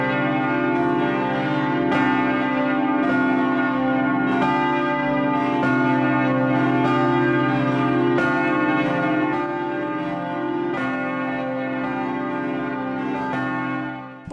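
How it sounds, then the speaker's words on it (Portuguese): The large bell of the Basilica of Aparecida, the great Marian shrine, tolling in loud, regular strokes about every two seconds, each ring overlapping the long humming decay of the one before. "Você também pode usufruir do som desse sino todos os dias aqui, ao meio-dia e às 6 da tarde."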